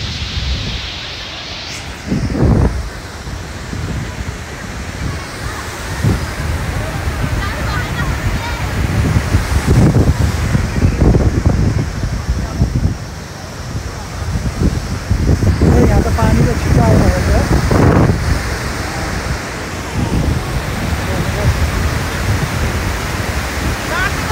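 Loud, continuous rushing water roars close by at a waterfall in Mustang, Nepal, a dense broadband wash with wind buffeting the microphone and occasional voices beneath.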